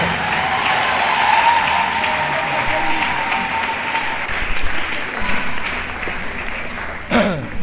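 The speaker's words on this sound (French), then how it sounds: "Acclamons pour le Seigneur." A church congregation claps throughout, a dense, sustained round of applause at Sunday worship, with voices and shouts mixed in and a brief clatter near the end.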